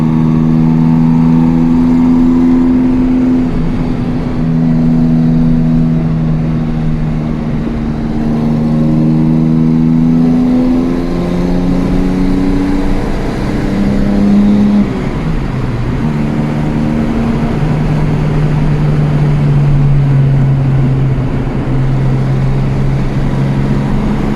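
A Jaguar E-Type engine with three SU carburetors hums steadily and rises and falls as it revs through the gears, heard from inside the car and without talk.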